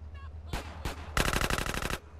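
Video game gunfire in GTA San Andreas: two quick separate shots, then a rapid automatic burst of about a dozen loud rounds in close succession.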